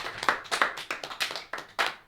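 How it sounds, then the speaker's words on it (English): Scattered clapping from a small group at the close of a youth discussion session on love, soft irregular claps at moderate distance with uneven rhythm. "let's clap for ourselves"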